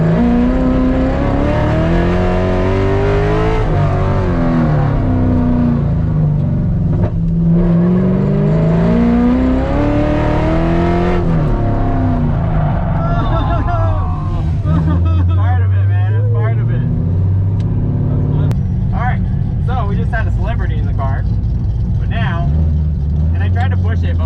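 A C5 Corvette works through an autocross run at Beach Bend, its engine droning and rising and falling steadily through the whole stretch, with a voice talking over the car noise.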